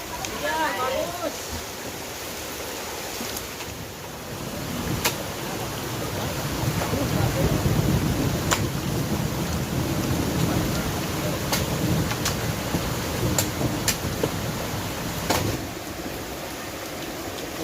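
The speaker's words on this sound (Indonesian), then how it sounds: "Hujannya gede sekali, guys." Heavy rain pours down steadily in a dense, constant roar, while several sharp cracks of thunder strike at intervals and deep rumbles swell in the middle; a voice is briefly heard near the start.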